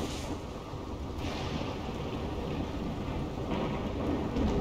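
Rain falls steadily in the RimWorld video game, a dense, even wash of patter with soft rumbling underneath, holding at a moderate level throughout with no voices.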